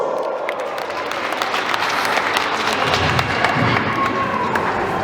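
Sustained, dense applause from a gathered crowd of family and friends at a 50th birthday celebration in Paraguay, honouring an exemplary father. The steady clapping is loud and close, with a few thumps mixed in.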